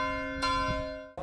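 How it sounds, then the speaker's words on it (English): A historic schoolhouse bell, now hanging at a bar in Linwood, rings with one sustained clang that hangs on and fades, then a second strike lands right at the end; it is close and loud, with no talking. "Mary rings it to remind Linwood that District 10 is still in session."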